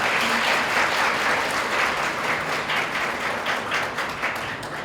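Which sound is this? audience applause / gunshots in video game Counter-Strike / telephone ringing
audience applause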